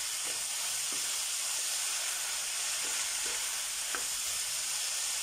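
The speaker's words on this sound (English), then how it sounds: "I'm going to be dropping in our sweet corn. Just spread it out. Give it a good stir." Sweet corn fries in a hot pan for cheese-corn samosas, giving a loud, steady sizzle and hiss. A few soft scrapes from the spoon stirring it rise through the frying sound.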